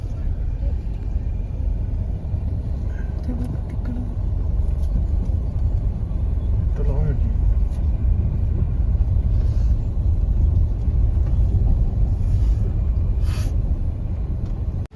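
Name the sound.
cars arriving at a crowded parking area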